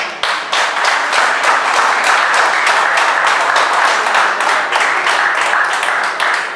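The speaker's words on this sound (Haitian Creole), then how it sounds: "C'est pour ça que nous avons applaudi." Dense, steady applause from an audience fills the whole stretch, many hands clapping at once in a loud, continuous wash with no voices rising above it.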